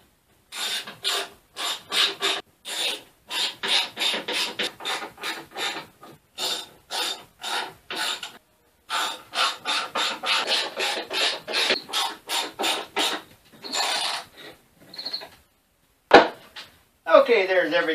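Lag bolts are driven into a wooden lathe stand, a run of repeated rasping, ratcheting bursts in short rhythmic strokes with brief pauses, heard up close and without talk.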